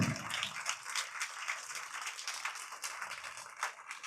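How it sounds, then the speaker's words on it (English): School audience applause at a Republic Day celebration for a national chess championship placer, faint continuous pattering claps with slight swells, no talk. "Let the applaud not fade off. Please continue applauding."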